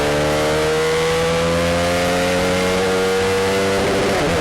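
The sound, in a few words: race cars driving past at Kirkistown circuit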